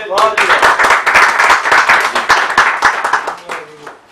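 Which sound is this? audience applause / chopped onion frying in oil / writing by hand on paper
audience applause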